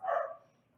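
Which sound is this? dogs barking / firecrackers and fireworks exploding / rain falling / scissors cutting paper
dogs barking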